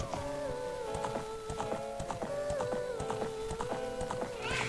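Epona the horse galloping in The Legend of Zelda: Ocarina of Time, a steady rapid clip-clop of hooves with whinnies and tonal game music running under it, fairly loud and continuous.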